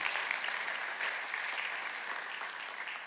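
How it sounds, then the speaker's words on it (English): Steady applause from a church congregation, continuous clapping that fills the space at an even level for a few seconds. "why don't you give yourself a round of applause?"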